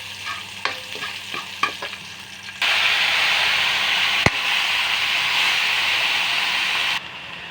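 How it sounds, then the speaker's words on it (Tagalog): Pechay (bok choy) sautéing in a pan: faint stirring taps at first, then a loud, steady sizzle that holds for several seconds and stops abruptly, with one sharp click partway through. "Nagigisa lang ako ng pichay."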